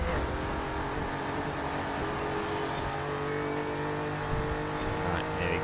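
A Jaguar XJ13 race car engine on a flying lap in Forza Horizon 5, a continuous loud engine drone that holds steady throughout, with a voice faintly present beneath it.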